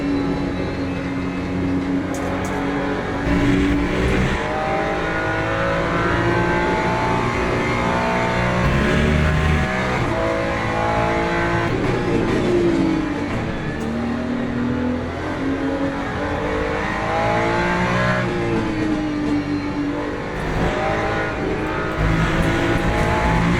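A race car in Le Mans Ultimate, a motorsport video game, drones steadily for the whole stretch, its engine rising and falling in pitch as it revs and shifts, loud and close, with no talking over it.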